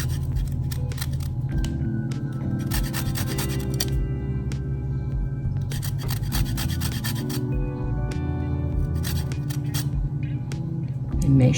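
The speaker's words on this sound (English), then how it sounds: "This lemon zest is going to be very fragrant." Lemon peel being grated for zest, a continuous dry rasping scrape that repeats in close, even strokes with no talking.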